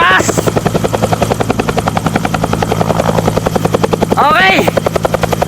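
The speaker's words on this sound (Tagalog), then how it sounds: "Hinulog na kami ng helicopter na sundalo dito sa taas." Military helicopter hovering overhead, a loud continuous rotor chop with steady blade thumps and a whining turbine, growing louder near the end; no clear speech over it.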